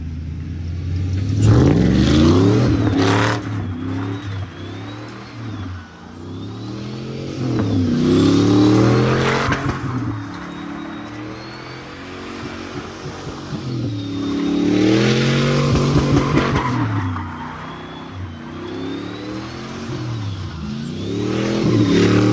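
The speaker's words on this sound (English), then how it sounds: "I just did a few donuts to test out the truck." A throaty 6.0 V8 engine in a Chevy Silverado pickup revs repeatedly in rising and falling waves, the tires scrubbing as the truck does donuts, loud and close.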